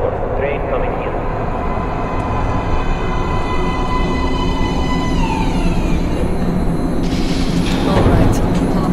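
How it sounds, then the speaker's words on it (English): A metro train arrives at an underground platform in the video game Metro Last Light, a loud, continuous rumbling roar with rising and falling whines of wheels and motors, while a voice speaks over it. "Please step away from the edge of the platform. Train coming in."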